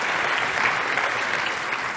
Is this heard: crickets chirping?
no